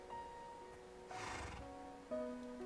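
A synthetic-sounding Minecraft horse whinny rises briefly over a steady electronic game soundtrack with sustained tones.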